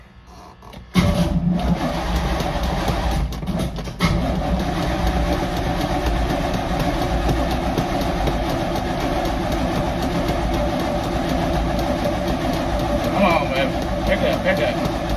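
A K10 truck that has sat unused for two and a half years, its engine cranking briefly and then catching into a loud, steady idle that runs to the end, with voices talking over it.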